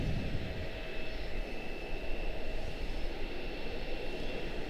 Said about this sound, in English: Touching down in the background back there, Phoenix, A321 Neo